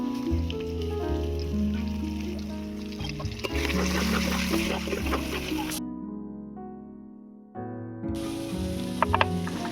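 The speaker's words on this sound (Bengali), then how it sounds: "এবারে দিয়ে দেবো পেঁয়াজ কুচি" Chopped onions frying in a pan for a fish curry with winter vegetables, a continuous crackling sizzle at moderate loudness, broken by a short near-silent pause before the frying noise resumes.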